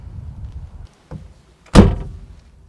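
A Mercedes-Benz S-Class 3.5 W111, the last hand-built Mercedes, has its door shut with one solid, heavy thunk after some quieter handling noises, close by and crisp in a quiet setting.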